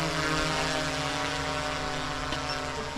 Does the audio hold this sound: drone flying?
yes